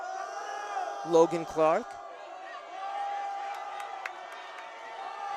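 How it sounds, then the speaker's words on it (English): Football crowd in the stands at a Lincoln vs Erasmus high school game, cheering and whooping in a couple of short bursts over a distant murmur, with a commentator talking. "Crowd picking it up here"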